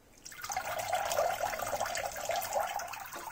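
Water sloshing and bubbling as a Siku toy police boat sinks, a continuous close gurgling and splashing with no talk.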